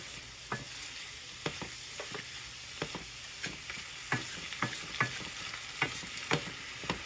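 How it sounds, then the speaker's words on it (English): Ham sizzles in a frying pan as salt is stirred in, with a steady background fry broken by about a dozen sharp scraping strokes of the spoon against the pan at an irregular rhythm. "I went ahead and turned the pan around so I can hold the handle while I'm stirring the salt in"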